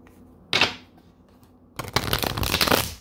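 A Hermetic Tarot deck is shuffled by hand: a short riffle burst early on, a quiet pause, then a longer, louder flurry of rapid card flicks and slaps close to the microphone.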